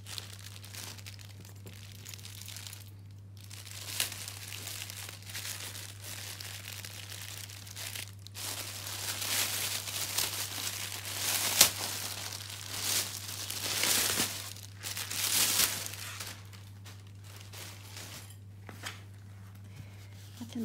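Nylon wrapping on a Givenchy handbag parcel being pulled open: soft irregular crinkling and rustling in bursts, close but fairly quiet, over a steady low electrical hum.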